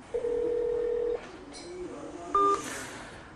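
A phone call to a Delhi hospital's number goes unanswered: a steady tone holds for about a second, followed by brief electronic beeps and a higher tone over faint background noise.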